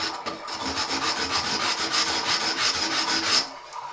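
A pumice stone scrubbing limescale off a chrome tap, a harsh gritty rasping in quick back-and-forth strokes, close and continuous for a few seconds, with no talking.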